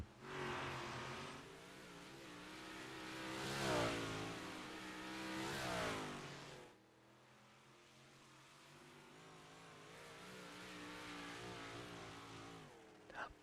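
Race cars roar around the 3/10-mile dirt oval at Lincoln Speedway during a heat race, engines revving up and fading as they sweep past, then a quieter, more distant drone of the field.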